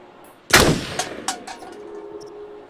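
A single loud gunshot in the video game Until Dawn cracks sharply and then decays, and a few quieter shots or impacts follow it. There is no talking.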